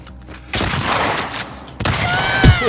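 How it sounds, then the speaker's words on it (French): Bursts of rapid gunfire in The Last of Us Part 2, a sustained volley followed by a second loud burst with ringing, close and dominant. "D'où je me fais tirer dessus là?"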